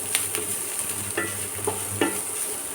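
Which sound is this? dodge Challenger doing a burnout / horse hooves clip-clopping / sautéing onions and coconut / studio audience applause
sautéing onions and coconut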